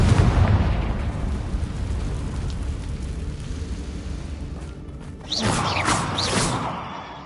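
A Confringo spell explosion in a Harry Potter video game rumbles loudly at first and fades into a low roar, followed by a second bright burst with crackling flares near the end.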